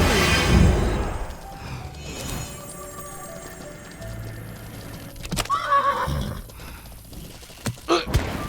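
Horses neigh and whinny in the medieval online game Mortal Online 2, a loud whinny at the start followed by a quieter one midway, with scattered hoof clops and clanks toward the end.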